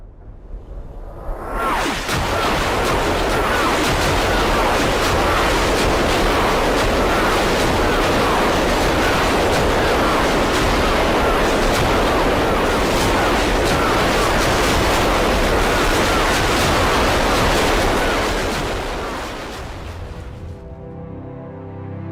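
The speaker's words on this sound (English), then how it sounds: "Somebody on YouTube recreated like what it would have sounded like an artillery barrage in World War I." A recreated World War I artillery barrage, a dense, continuous roaring rumble of massed distant gunfire that swells in, holds loud for nearly twenty seconds, then fades away.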